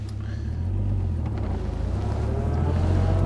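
A 1930s saloon car pulls away with a steady low engine drone and the rush of motion, heard from close by at moderate loudness with no talking.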